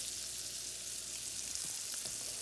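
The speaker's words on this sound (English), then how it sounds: "Let those saute for a second in there." Leek whites sautéing in a pan give a soft, even sizzle that holds steady throughout, fairly quiet and unbroken.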